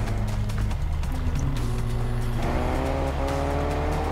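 A car engine revs and shifts while driving in Fortnite, loud and steady with rising pitch changes and a brief tire squeal, dominating the mix with no talking.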